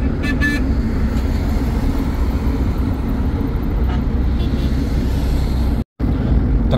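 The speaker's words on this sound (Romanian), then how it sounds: "Trafic intens aici." Heavy city road traffic near the ancient site of Babylon, Iraq, rumbles in a dense, loud steady roar of engines close by, with brief faint horn toots early on and a short cut near the end.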